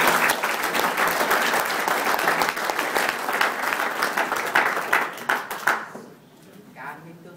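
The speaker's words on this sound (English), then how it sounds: "So let's all give a round of applause for Ben" An audience claps and applauds warmly at a celebration honoring ten years of work, dense steady clapping that swells and then tapers off and stops, with a few voices heard faintly at the end.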